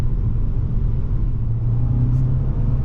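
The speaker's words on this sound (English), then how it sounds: "Hit from a rolling start and down the road we go, nice and easy, no problem." A 2023 Nissan Altima SL AWD pulls away from a rolling start, giving a steady low engine and road rumble that stays even and close throughout, with no talking.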